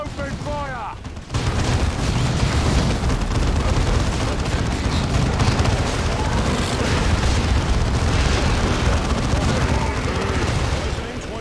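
Relentless gunfire and booming explosions fill a Dawn of War II battle, a dense, loud, continuous roar of combat that barely lets up, with battlefield voices faintly mixed in.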